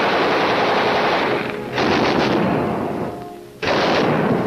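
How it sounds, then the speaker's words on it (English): Machine guns test fired by Marines preparing for the Tarawa landing, sustained loud bursts of automatic fire with two brief pauses, close and continuous. "We built more machine gun ammunition. Check and test fire all weapons."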